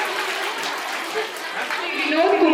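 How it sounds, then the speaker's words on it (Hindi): Audience applause for students at a school annual function, steady dense clapping mixed with crowd chatter, swelling slightly toward the end. "जोरदार तालियां सभी बच्चों के लिए।"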